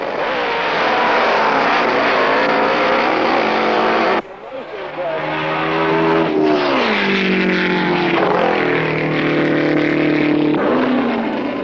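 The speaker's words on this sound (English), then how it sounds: "The roar of those engines as they come up to the final seconds before roaring away." Drag racing car engines at a 1978 meeting at Snetterton roar loudly and continuously, with a brief drop before the throttle opens again and the pitch climbs as the cars launch away, an announcer talking over the noise.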